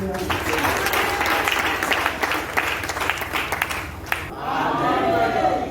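A church congregation applauds at a service, steady dense clapping that holds for several seconds, briefly dips, then swells again with voices mixed in.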